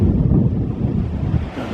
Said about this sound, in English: Getting up windy now, very windy.